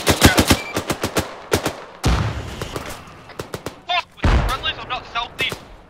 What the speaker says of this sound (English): they just fired an RPG this way